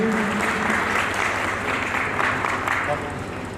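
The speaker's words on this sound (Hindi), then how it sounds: "तालियां बजाएंगे।" Crowd clapping at a religious gathering honouring a swami, a dense patter of hands beneath a droning amplified background and faint voices, slowly tapering off toward the end.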